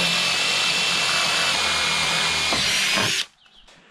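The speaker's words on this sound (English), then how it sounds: "Last hole to pre-drill." A power drill pre-drills a hole for metal roofing screws on a roof, whining loudly and steadily for about three seconds before stopping abruptly, with no talk over it.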